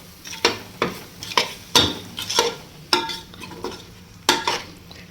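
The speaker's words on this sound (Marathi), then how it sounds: "व्यवस्थित परतून घेऊयात." Mixed Bhogi vegetables are stir-fried in a pan, with a spatula scraping and striking roughly every half second over a low sizzle, close and fairly loud, no talking.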